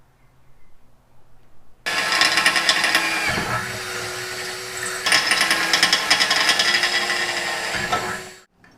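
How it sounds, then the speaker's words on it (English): A power drill bores loudly and close by in two long bursts, drilling holes for a reverse camera on a Mitsubishi Evo X, grinding steadily with a short pause between them, after a quiet start. "let's go ahead and drill some holes for it"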